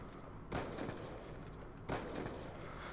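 Two sharp, loud sniper rifle shots in a video game, fired about a second and a half apart while the player crouches between them, each cracking out over a steady background hum.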